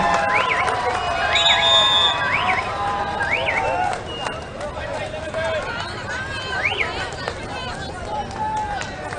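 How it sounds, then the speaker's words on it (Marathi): A crowd cheers and shouts from a neighbouring ground at a women's kabaddi semi-final, the roar rising and falling behind a commentator's voice, with whistles and excited calls carrying from a distance. "पलीकडच्या मैदानावर 13-18 काय जल्लोष आहे"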